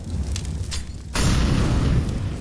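A grenade going off in a video game: low rumbling, then a sudden loud boom with a sustained blast that holds strong to the end.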